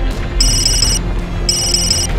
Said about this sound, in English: I'm getting a cell phone call.